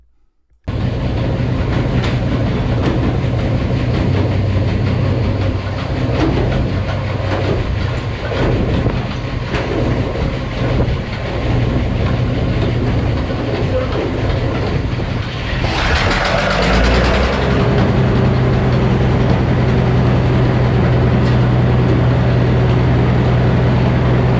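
A sawmill saw cuts through dirty, rotten logs, a loud continuous grinding roar that starts abruptly after a short silence, then shifts to a higher, steadier whine partway through as the cut changes.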